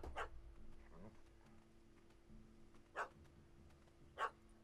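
A puppy barks in The Witcher 3 video game, a few short sharp yaps spaced apart over a low game ambience, fairly faint, with a brief voice near the start.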